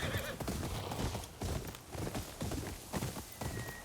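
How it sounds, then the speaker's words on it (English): A herd of wild mustangs in the video game Ghost of Yotei neighs and whinnies over a dense, continuous clatter of hooves passing close by. "We have some Mustangs out here."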